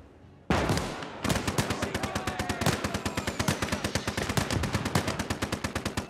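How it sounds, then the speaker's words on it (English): Enemy machine gun firing in Gates of Hell: Ostfront, a WWII battle between US and Soviet forces in pine woods, loud rapid bursts hammering in a sustained, even stream after a brief pause. "Enemy machine gun."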